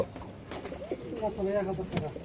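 Pigeons at a pigeon farm, among them Iranian birds, coo in soft, rolling, throaty calls, close by and repeated through the stretch, with low chatter in the background.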